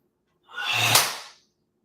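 A single long, breathy inhalation during a qigong class, rising and fading over about a second and heard close and alone.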